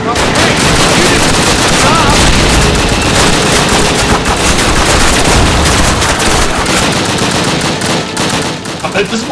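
Sustained automatic gunfire in Call of Duty, the trigger held down through a dense, unbroken stream of loud shots with booms mixed in, near and continuous for the whole stretch.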